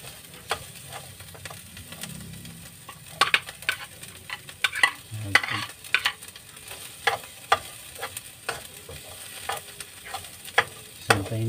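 Onion and garlic stir-fry in a pan with a soft, steady sizzle, broken by repeated sharp clicks and scrapes of a utensil against the pan in an irregular rhythm.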